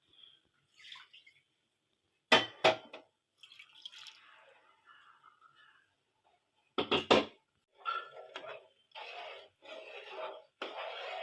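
Semiya milk payasam being stirred in a pot with sugar and cardamom powder, heard as close wet sloshing and scraping in separate strokes with short pauses between, and two sharper knocks against the pot, with no talking.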